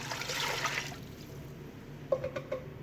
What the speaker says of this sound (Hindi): इसके अंदर अब हम जाएगा डालेंगे 1 लीटर पूरा पानी